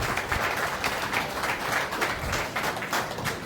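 Seated audience at a senior citizens' group birthday celebration for a doctor turning ninety-one applauds with steady, dense clapping over a few seconds, a moderately distant wash of many hands with no talking.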